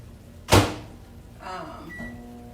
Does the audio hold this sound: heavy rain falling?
no